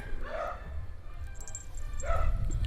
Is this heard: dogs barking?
yes